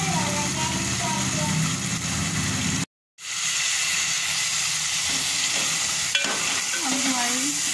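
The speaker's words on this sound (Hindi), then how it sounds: "चिकन को अच्छी तरह से भुनेंगे।" Chicken being fried and stirred in masala for an aloo matar chicken dish, a continuous close sizzle with scraping stirs and a brief cut of silence partway, while a voice talks over it.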